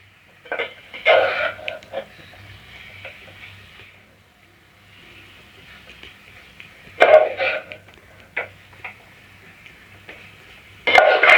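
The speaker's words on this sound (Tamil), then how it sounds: "காலிஃப்ளவர் ஃபுல்லாக மசாலா பொடி படுற மாதிரி கிளறி விட்டுப்போம்" Cauliflower being stirred in a pan with freshly ground masala powder for a Tamil-style gravy, making intermittent scraping and clattering bursts of the spoon against the pan, with quieter gaps between them.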